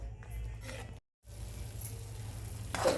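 Paneer curry masala sautés in oil with a quiet, steady sizzle that cuts out briefly and then resumes, ending in a faint clink, close by and without talking.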